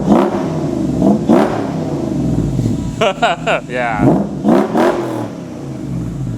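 A Toyota 1UZ V8 swapped into a Toyota farm truck revs through a custom-fabricated exhaust, a loud, close engine drone rising and falling in several throttle blips, with a voice briefly talking over it.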